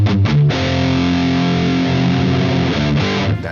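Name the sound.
guitar through Marshall JCM800 2203 amp with power amp distortion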